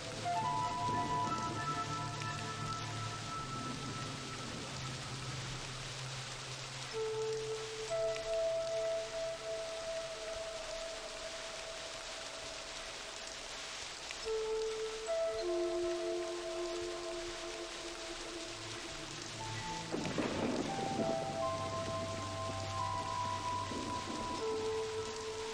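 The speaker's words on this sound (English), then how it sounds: "See the rain. The rain's back, by the way." Rain falls steadily in the StoneShip Age of realMYST, a constant patter layered under sustained musical tones that swell and fade across the whole stretch.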